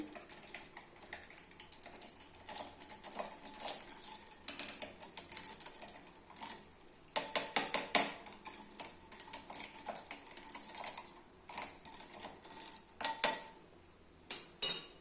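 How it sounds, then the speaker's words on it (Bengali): A spoon stirs homemade aam panna mango drink in a glass, giving rapid, irregular light clinks and taps against the sides, close and fairly quiet, with no talking. "একটা চামচ দিয়ে আপনি ভালো করে গুলিয়ে নেবেন"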